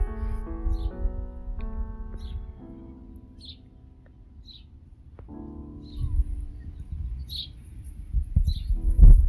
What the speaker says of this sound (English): All I can hear is the birds